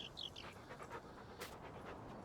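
A puppy in the farming game Farming Simulator 19 pants steadily and quietly, quick soft breaths repeating through the moment alongside a couple of brief high whimpers near the start, with no talking over it.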